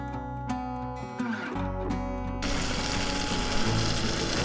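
Leftover pasta water pours into a pan of meat sauce on a camp stove in Western North Carolina, a steady gushing splash that follows a few clinks and runs on without a break.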